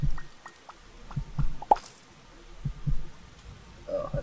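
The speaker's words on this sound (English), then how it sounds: "there's heartbeats when you go lower." Slow, muffled low heartbeat thumps in pairs echo deep underground in the video game Starbound with the Frackin' Universe mod, with faint drips and plops in between and no talking.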